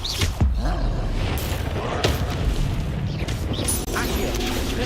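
Confringo blasting spell explosions in Hogwarts Legacy, heavy booming blasts with crashing debris over a dense background of combat noise, loud and close, several impacts in a row.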